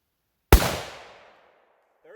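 A single loud .300 Winchester Magnum rifle shot using a 110 grain Barnes TAC-XP load, a sharp close blast with a decaying echo, followed by faint sound at the end.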